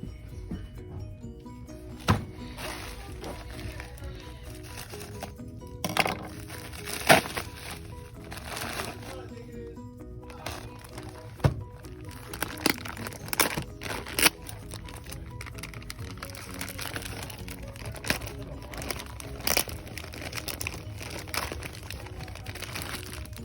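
Package of military band patches being opened with scissors, giving steady crinkling of plastic wrapping with sharp snips and rustles scattered throughout at close range, with no talk.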